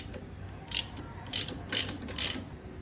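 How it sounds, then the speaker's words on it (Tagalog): A ratchet wrench loosens a size 14 bolt on a Kawasaki Ninja 650 during slider installation, giving four short, close bursts of rapid clicking with brief pauses between them and no talking. "So tatanggalin muna natin to. Gamit lang tayo ng ratchet. Size 14 nga pala siya."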